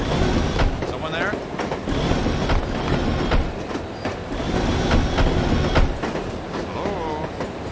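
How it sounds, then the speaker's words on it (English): Steady rumble and clatter of a train ride in the video game The Operative: No One Lives Forever, with rhythmic wheel clicks and occasional squeals, loud and continuous while a voice talks over it. "I love riding the train."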